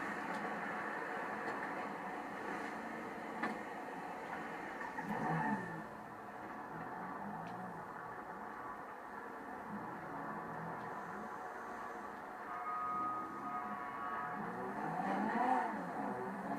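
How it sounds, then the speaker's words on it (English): Dinka Blista Compact driven in a video game, its engine humming steadily at a moderate level with brief surges and revving rises, no talk over it. "let's go ahead and take it on a test drive around the block"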